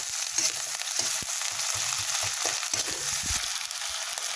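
Onion frying in oil with cumin and ginger-garlic paste, a dense continuous sizzle broken by soft stirring scrapes throughout.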